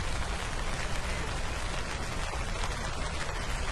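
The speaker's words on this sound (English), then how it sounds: "It's raining." Steady, dense rain pattering on a surface at an outdoor town hall tailgate, a continuous hiss with no voices, even in loudness throughout.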